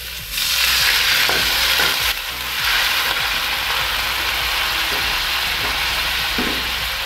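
Carrots sizzle steadily while stir-frying in a pan with a little added water, for a chayote and carrot stir-fry, with occasional scraping stirs and clicks close by throughout.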